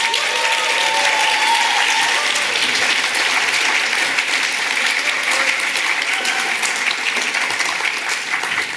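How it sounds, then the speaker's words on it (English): Dense, steady applause fills a conference hall from a large audience, sustained and even throughout with no break. "massive round of applause."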